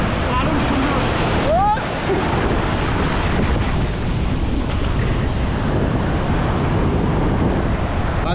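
Big sea waves roll and crash continuously on Bagda beach, a dense roar of surf mixed with gusty wind buffeting the microphone throughout.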